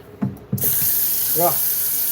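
Hot tap water starts running hard into a sink to clean out a paint sprayer, a steady loud rush after a couple of knocks. A faint voice is heard briefly under the flow.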